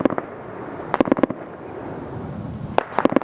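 Gunfire during a combat engagement with Taliban fighters in Afghanistan in 2012: a couple of short bursts of sharp cracking shots fairly near, separated by a low background rumble.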